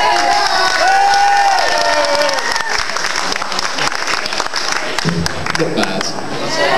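An audience at a cosplay event breaks into loud, sustained applause and cheering, with dense clapping, shouts and whoops close by, easing slightly toward the end.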